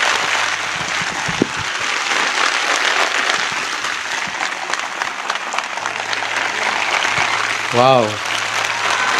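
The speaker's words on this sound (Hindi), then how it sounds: "आइए यीशु के लिए एक अच्छी खूबसूरत ताली बजाइए" A church congregation applauds for Jesus at a worship meeting, sustained loud clapping from the crowd filling the hall while a voice shouts an exclamation near the end.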